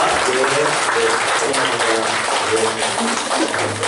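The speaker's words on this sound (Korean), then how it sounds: "우리 일어나실 때 박수로 한번 환영할까요?" A church congregation applauds during Sunday worship to welcome newly registered members, steady clapping under a speaking voice throughout.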